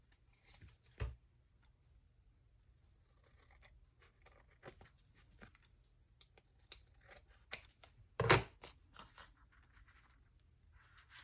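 Scissors snip paper for a junk journal in a few sharp, close cuts spread across a quiet stretch, with one louder crisp snip near the end and faint rustling of paper in between.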